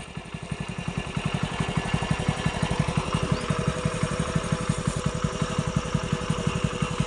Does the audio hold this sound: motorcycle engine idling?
yes